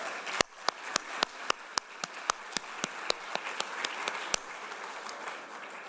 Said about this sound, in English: Please join me in giving Erika Bernal Martinez another round of applause.